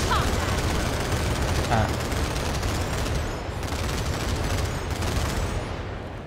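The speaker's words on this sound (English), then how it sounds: "Deploy field, scope in, and start firing." Continuous automatic gunfire in the video game Final Fantasy VII: The First Soldier, loud and sustained bursts filling the whole stretch, with a brief voiced exclamation over it.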